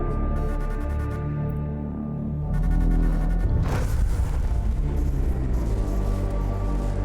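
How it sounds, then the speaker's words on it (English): Churchy synth soundtrack music from the video game Warhammer 40,000: Mechanicus: sustained organ-like chords and drones, swelling into a fuller, denser layer after a couple of seconds, loud and continuous with no talk. "One of the best soundtracks in years. This churchy synth."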